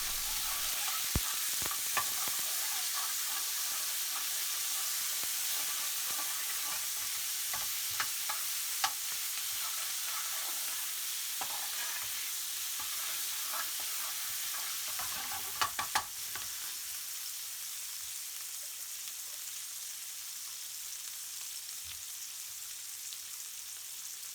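A balti curry with salt, fenugreek leaves, garlic and ginger is stirred in a hot pan, a soft steady sizzle with intermittent scraping clicks from the utensil, faint and continuous with no voices.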